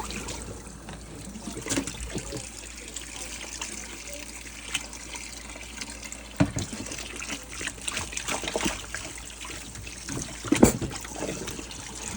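Water trickles and splashes while a raccoon hide is rinsed after washing with dish soap, a steady running stream with soft sloshing and a few sharper splashes, close by and fairly quiet, no talking.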